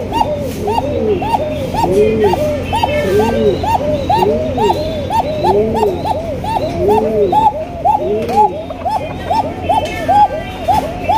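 Pigeons at a pigeon market coo in a dense, rhythmic chorus of repeated rolling calls, loud and close, with people talking over them.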